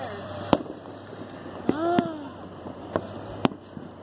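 Firecrackers bursting in a street, four sharp, separate bangs spaced about a second apart, with a brief tonal whistle between two of them and faint voices in the background.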